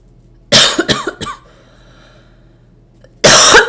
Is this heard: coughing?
yes